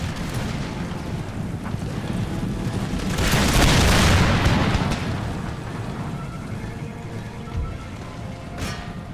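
Soldiers fire a musket volley in the Empire Total War battle game: a dense, rolling roar of gunfire swells to a heavy booming peak and then settles into a sustained rumbling din, with a sharp crack near the end.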